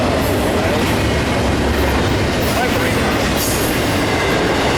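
A freight train of empty flatcars rolls past close by at Cajon, a loud constant rumble and rattle of wheels on rail that fills the whole stretch.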